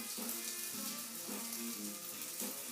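Potato latkes sizzle steadily in an oiled frying pan, a continuous crackling hiss with faint recurring tonal hum beneath, no talking.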